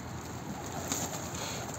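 Pigeon cooing among a flock kept in a loft, a soft brief coo barely rising above a steady, dense background hiss.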